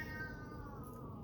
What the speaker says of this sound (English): You can probably hear my cat meowing in the background.